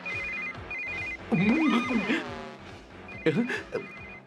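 A telephone rings in repeated electronic bursts while people talk over it, voices rising and falling around the ringing.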